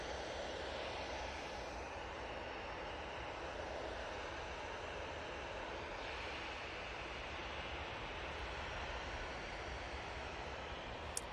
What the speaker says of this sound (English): Easyjet now on the roll, going off to Geneva.